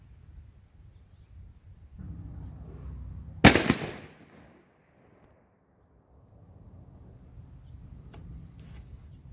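A single loud, sharp rifle shot from a Mossberg Patriot Predator firing a 6.5 Creedmoor handload outdoors, the crack decaying quickly into quiet, with faint bird calls before it.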